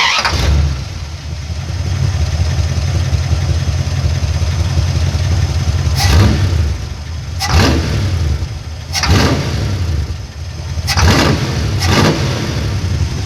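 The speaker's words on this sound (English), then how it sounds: "Let's go ahead and hear this start." A Mopar 361 big block V8 in a 1973 Dodge Charger cranks and fires, then settles into a loud, rumbling idle broken by several sharp throttle blips, close and continuous with no talking.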